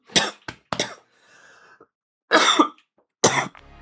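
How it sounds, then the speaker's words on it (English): Several harsh, close coughs come in quick clusters separated by short quiet pauses. "but I have a really bad cough right now."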